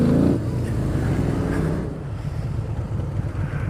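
A Harley-Davidson V-Rod motorcycle on a long ride home, its engine a steady low rumble with wind noise that is louder at the start and settles into a continuous drone.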